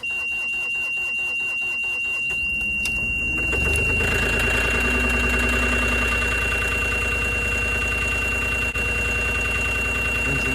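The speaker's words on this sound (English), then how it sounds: "Engine starts right up." A Moffett M8 NX truck-mounted forklift diesel engine cold starts at 14 degrees after grid heater use: light ticking and whirring, then the engine catches abruptly and settles into a loud, steady, rumbling idle close by.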